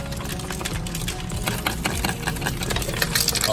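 A coin counting machine spins and whirs steadily while quarters are deposited, giving a dense, continuous mechanical rattle of tumbling coins that holds fairly loud throughout with no talking.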